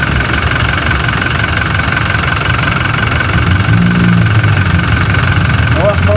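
A car engine runs steadily close by, a loud continuous idle hum with a faint knocking rhythm, and a voice speaks briefly over it.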